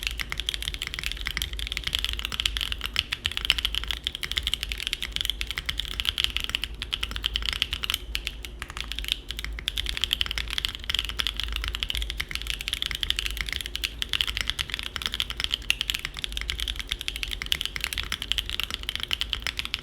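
Steady, continuous typing on a Mode Tempo mechanical keyboard fitted with added internal foams, a dense run of close, even keystrokes with no voices.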